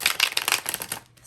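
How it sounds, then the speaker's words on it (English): Tarot cards shuffled by hand during a reading: a quick run of close, crisp riffling flutters over about a second, then it stops and goes nearly quiet. "I want to shuffle this one more just because it feels right."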